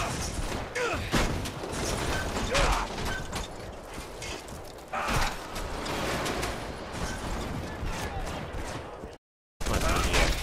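Gunfire and mechanical clatter in the video game Red Faction Guerrilla, repeated sharp shots and rattling bursts over a dense, noisy action soundscape, broken by a brief dropout near the end.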